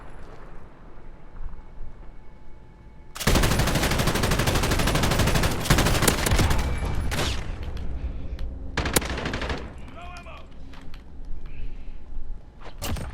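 A PKM machine gun in the Modern Warfare video game fires long, loud sustained bursts, with a brief pause and then shorter bursts against quieter background noise.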